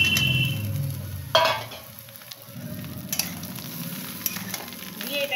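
Eggplant chunks and slit green chillies fry in a hot pan, a loud steady sizzle broken by scraping stirs and a brief clink, heard up close with no voices.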